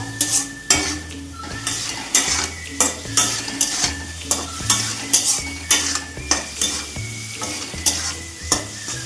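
Spice masala for ghugni fries in a pan while a utensil stirs and scrapes in a steady rhythm of repeated strokes, with a continuous sizzle beneath, close and clear.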